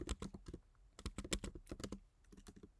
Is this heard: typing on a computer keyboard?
yes